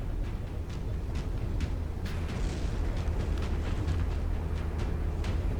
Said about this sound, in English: Then they're detonating because of time and shooting their fragments up into the bottom of it.